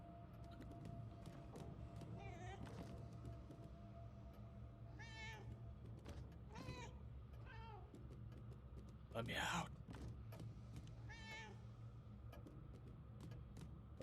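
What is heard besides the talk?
cat meowing in video game Murdered: Soul Suspect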